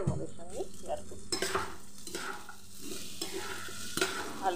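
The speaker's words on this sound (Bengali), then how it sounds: "চাল খুব ভালো করে ভেজে নিচ্ছি" Rice frying in a pan for Bengali bhoger khichuri: a steady close sizzle with repeated scraping and stirring strokes of a spatula against the pan, and no voices.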